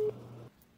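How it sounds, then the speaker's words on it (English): An unanswered telephone call produces a steady electronic ringback tone that holds for about half a second, then cuts off and leaves near silence. "Come on, Mom, pick up the phone."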